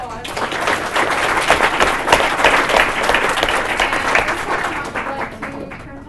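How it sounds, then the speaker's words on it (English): A panel audience applauds the speakers at an international student event, a dense, steady round of clapping that stays loud for about six seconds before easing slightly at the end. "Let's give the panelists a round of applause."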